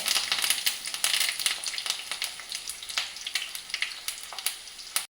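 Curry leaves crackle in hot oil for a leftover-chapati snack, producing dense, close popping and spitting over a continuous sizzle that fades only at the very end.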